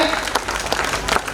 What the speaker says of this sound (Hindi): कुंदन कुमार के लिए जोरदार तालियां